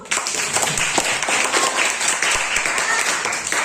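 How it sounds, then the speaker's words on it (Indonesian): Students in a classroom give a round of applause, thick continuous clapping with some sharp individual claps and faint voices mixed in. "Kita kasih tepuk tangan dulu."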